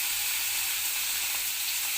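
Prawns shallow-frying in hot mustard oil over medium heat give a steady, even sizzling hiss, close and unbroken, with no talking.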